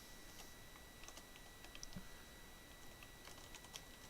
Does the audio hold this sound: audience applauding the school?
no